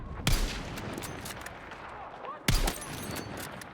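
Gunfire in Battlefield 6 during a Conquest match on New Sobek City, with a sniper position: two sharp, loud shots about two seconds apart over a steady rumble of distant battle noise.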